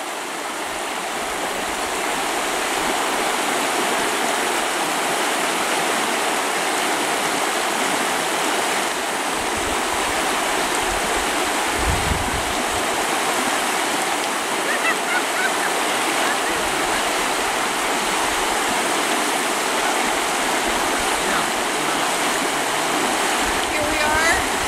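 Small mountain stream flowing near Upper Paradise Lake, a steady close rushing and babbling of water that holds even throughout, with faint voices briefly underneath.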